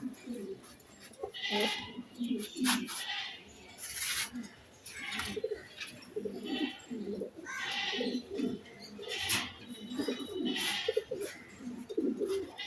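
Budapest racing pigeons cooing in repeated soft throaty bursts, several birds overlapping at close range with brief pauses between calls, over a quiet background.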